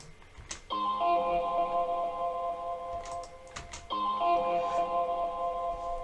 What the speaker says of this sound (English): It's like a sort of distorted Rhodes type sample.